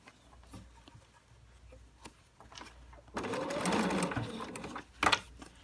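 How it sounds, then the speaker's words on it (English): A sewing machine stitches binding onto a custom fabric container, one short burst of rapid mechanical whirring after quiet fumbling, then a brief sharp clack. "I want to be able to sew with my needle in the down position because I have to move this a lot"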